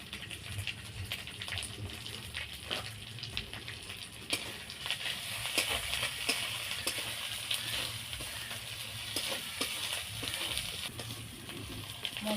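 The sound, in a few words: spices frying in oil with salt and turmeric for hilsa curry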